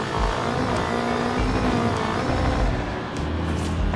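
Rally car engine in a Forza racing game heard from inside the cabin, a loud continuous drone whose pitch shifts as the car accelerates and the gears change.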